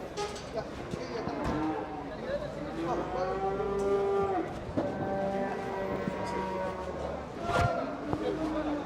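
Cattle moo repeatedly at a livestock market where sacrificial young bulls weighing around 550–600 kilos are sold, several long lowing calls from nearby animals over a busy crowd murmur.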